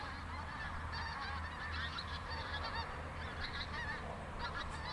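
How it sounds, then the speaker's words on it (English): Geese honk repeatedly outdoors at a bottle-digging site, a continuous chorus of overlapping calls at moderate distance over a steady background. "And there's the geese"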